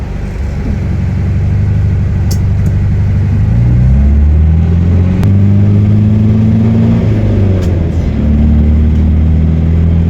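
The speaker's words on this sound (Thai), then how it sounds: "ไปลองขับขี่กันดูนะครับ" A 1978 Toyota Corolla KE35 coupe hardtop engine while driving gives a steady, loud low drone whose pitch climbs and drops in steps, like gear changes, with no talking over it.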